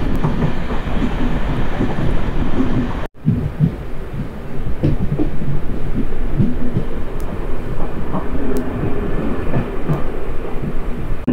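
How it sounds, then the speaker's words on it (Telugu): MEMU passenger train running between Bhimavaram and Narasapur as it curves onto a loop line approaching a station, with steady loud rumbling and rhythmic wheel clatter throughout, broken by a brief sharp dip near the start. "మన ట్రైన్ అయితే బ్యూటిఫుల్ టర్నింగ్ అయితే తీసుకుంటుంది. అండ్ లూప్ లైన్లో కూడా తీసుకుంటుంది"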